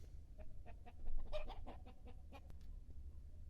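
Chickens settled in their coop in the evening, giving soft, scattered clucks and short calls over a low, steady background hum.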